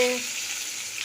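Fish frying in a pan, a bright, even sizzle that fades slightly after a faint tonal sound at the very start, close and continuous for about a second.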